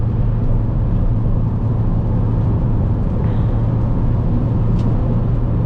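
A 2015 Chevrolet Cruze LTZ with a 144 hp engine cruises on a highway at about 140 km/h, giving a steady, loud cabin roar of road and wind noise with a low engine hum and no talk.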